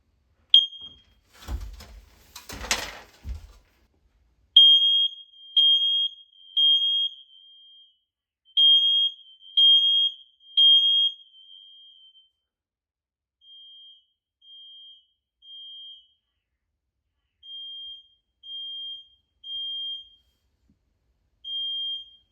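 Interconnected smoke/CO alarm answering a test-button press with a few handling clicks, then loud shrill beeps in repeated bursts that grow fainter and more spaced toward the end, no voices.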